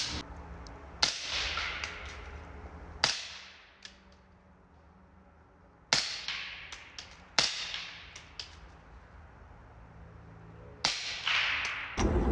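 Sharp, snapping suppressed subsonic .300 Blackout rifle shots from a Sig fire one by one at irregular intervals, each followed by a brief decay, with a quiet outdoor hiss between shots.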